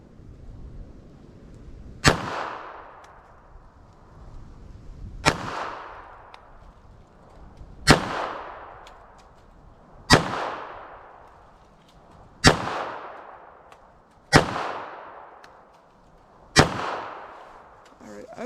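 A .32 caliber gun fires seven sharp, loud shots at a target outdoors on a cold day, spaced evenly about two to three seconds apart, each crack followed by a ringing decay.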